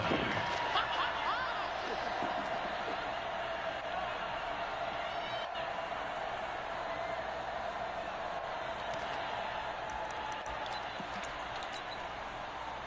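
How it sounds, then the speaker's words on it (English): A broad stadium crowd roars steadily through a football video game as a big third down approaches, with commentary talking over the dense, sustained cheering. "The crowd getting into it as we come up on a big 3rd down"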